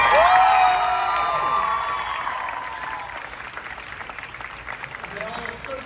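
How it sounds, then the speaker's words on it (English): An audience at a show cheers and whoops with applause, loud at first with a few shrill shouts, then settling into steadier clapping that tapers off. "Let's give a round of applause for all these bottles."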